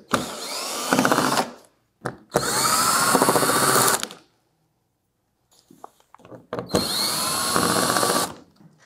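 A cordless power drill fitted with a 10 mm socket backs out screws on the shipping crate of a PHCbi VIP ECO ultra-low freezer, giving three loud whirring bursts of about one to two seconds each, separated by brief pauses and clicks.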